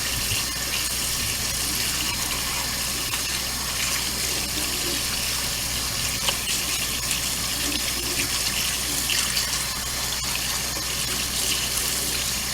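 Gutted fish rinsed under a running kitchen tap while fingers rub through the cavity; a steady, loud, continuous gush of water fills the whole stretch with no speech.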